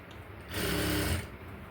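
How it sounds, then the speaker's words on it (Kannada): A sewing machine stitches fabric in one short burst of about half a second, a loud, even motor whir between quiet stretches. "ಆ ರೀತಿ ನಿಧಾನವಾಗಿ ಸ್ಟಿಚ್ ಹಾಕ್ಕೊಳ್ತಾ ಬನ್ನಿ"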